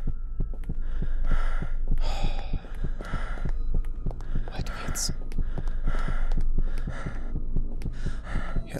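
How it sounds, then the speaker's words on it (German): Steady, loud heartbeat thumps in the indie horror video game Fibrillation pulse in a regular rhythm throughout, under a low hum and a man's short German remarks. "Herzschlag."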